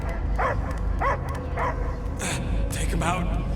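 A dog in Guardians of the Galaxy, the video game, gives a series of short barks and yips, several close calls spaced across the moment, over a steady low game rumble with voices present.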